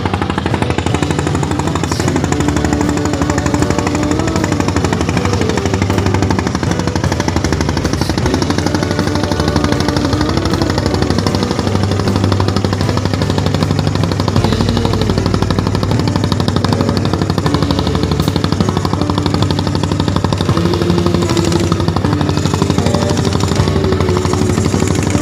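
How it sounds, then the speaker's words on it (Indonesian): An Indonesian fishing boat flying the red-and-white flag off Gope beach runs its engine with a loud, steady, rapid chugging that stays close and continuous throughout, with no talking. "ini kapal nelayannya, perahu nelayannya yang berbendera merah putih. Suaranya sangat khas sekali."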